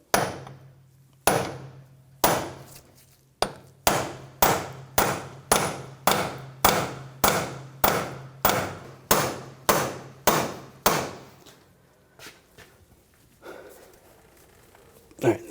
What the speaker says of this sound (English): Using a punch, we're just going to tap the axle loose from the hub.